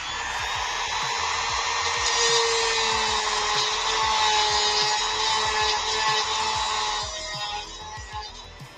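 A Dremel rotary tool works on an action figure, a close, steady high-pitched whine that runs continuously and then winds down near the end.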